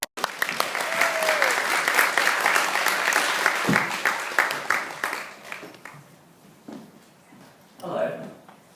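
Audience applause greets a speaker walking onto a seminar stage, steady dense clapping for several seconds that thins and fades, followed by a voice speaking.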